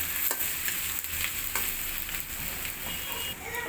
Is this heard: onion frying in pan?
yes